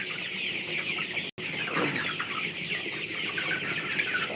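CP chickens cluck continuously, close by, with overlapping calls against a busy, noisy farmyard background.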